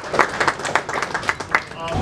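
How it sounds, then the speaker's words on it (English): A crowd at a subscribers' meetup gives a short burst of clapping and applause, with a voice talking over it. "give yourselves a round of applause"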